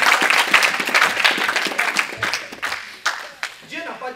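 A church congregation applauds during a French-language sermon, a loud burst of clapping that thins out and breaks into scattered claps toward the end.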